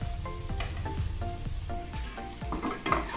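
Onion, garlic, ginger, green chillies, cashews and whole red chillies sizzle in a hot pan for butter chicken, a steady frying hiss broken by repeated rhythmic scraping strokes of a spoon stirring the ingredients.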